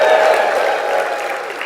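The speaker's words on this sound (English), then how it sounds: "Crowd goes wild." A crowd at a track meet's 110-meter high hurdles event cheering and applauding, a loud dense wash of clapping and shouting that holds steady and eases slightly toward the end.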